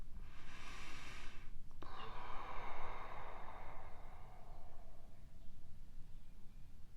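Slow, deliberate breathing, heard as a soft drawn breath and then a long airy exhale with a brief snort-like catch between them, close and quiet with no talk.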